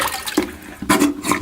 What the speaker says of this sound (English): I'm going to take a plunger, and I'm actually going to force the rest of the water as much as I can